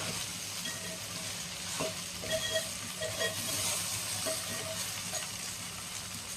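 Ladies finger (okra) fries in a pan with a continuous close sizzle and crackle, along with occasional stirring scrapes and light clinks.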